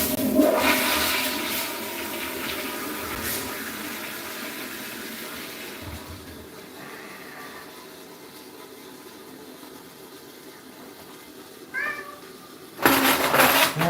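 A house cat meows near a bathroom while a toilet flushes loudly and water rushes, the brief meow rising late amid the draining and refilling water, with no talking.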